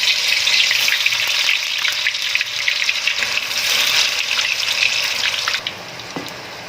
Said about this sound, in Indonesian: Pastikan kalau mau menggoreng tahu itu gunakan minyak yang betul-betul panas